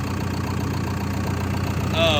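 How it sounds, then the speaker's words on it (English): A used piece of heavy equipment with a Tier 4 diesel engine idles steadily at close range, a continuous low rumble throughout, with a brief higher whine rising near the end. "So the machine fires up and runs pretty good."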